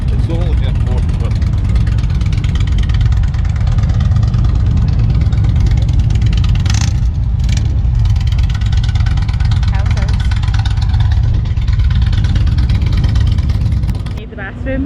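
A big motorcycle engine at Daytona Beach rumbles loudly and continuously, idling with some revving, while people talk over the heavy drone.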